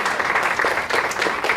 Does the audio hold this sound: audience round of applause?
yes